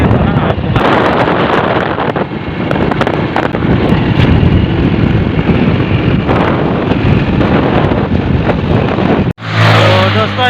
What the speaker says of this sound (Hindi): तो चलिए हम चलते हैं अभी बाइक से, और बाइक से राइड करते हैं थोड़ा